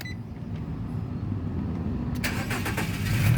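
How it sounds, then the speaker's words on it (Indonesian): A 2012 Nissan Evalia 1.5 XV automatic starting up with a push button, a low rumble followed by a sharp crank that catches into a steady close idle, with no voices. "sekarang kita coba nyalakan mobil"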